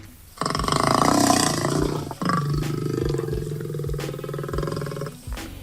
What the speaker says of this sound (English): What does a lion sound like?